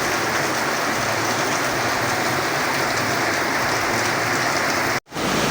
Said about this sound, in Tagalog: Ayan po, kung makikita nyo, umuulan.